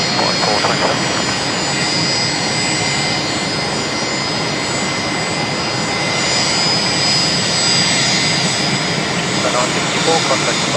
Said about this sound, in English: Fokker coming in nice and close.